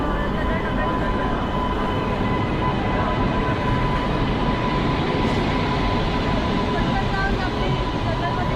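A train pulls into CSMT station in Mumbai, a loud, steady rumble and roar with a constant hum running underneath for the whole stretch.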